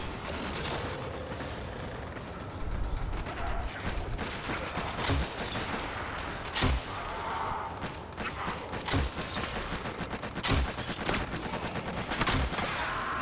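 Enemy gunfire in the Warframe video game rattles in dense, continuous bursts with sharp thumping impacts spread throughout, fairly loud and steady over the whole stretch.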